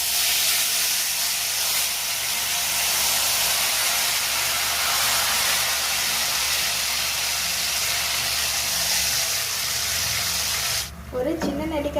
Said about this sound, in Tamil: இது கூட புளி தண்ணி சேர்த்துக்கலாம்.